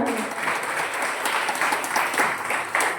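Audience clapping during a Marathi kirtan, a steady dense patter of many hands applauding together at moderate loudness, continuous without pause.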